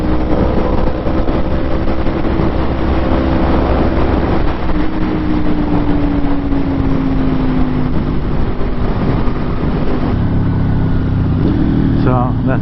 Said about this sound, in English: So that's that clutchless downshift to 1.